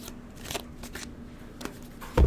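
Quick papery riffling bursts of cards being shuffled, a few soft flutters spread across the moment, fairly close and quiet, ending in a louder thump.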